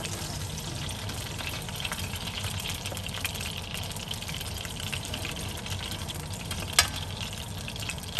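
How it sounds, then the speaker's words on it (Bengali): Food frying in a pan gives off a dense, even sizzle throughout, close by, with a couple of sharp knocks toward the end. "ভালো করে ফ্রাই করতে হবে"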